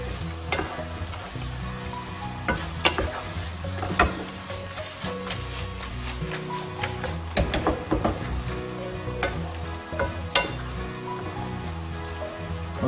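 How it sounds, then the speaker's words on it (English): Butter is stirred into a pumpkin gnocchi sauce in a hot pan: a soft frying hiss with scattered clicks and scrapes of a utensil against the pan, under steady background music. "Finally, add some butter to get silkiness, silky texture to into your sauce."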